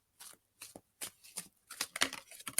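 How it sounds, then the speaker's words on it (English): Tarot cards are shuffled by hand in quick, close, crisp bursts of riffling and slapping against silence. "So I'm going to shuffle my cards again"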